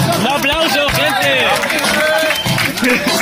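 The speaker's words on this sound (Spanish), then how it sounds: "¡Un aplauso, gente!" An audience at an outdoor rap battle final applauds and cheers in a dense, continuous wash of clapping and crowd noise, with shouting voices and babble layered on top throughout.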